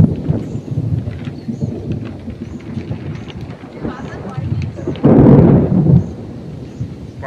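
A thunderstorm over the Sundarbans brings heavy rain pattering steadily, a deep rumble of thunder swelling loudly near the end, and wind buffeting the microphone.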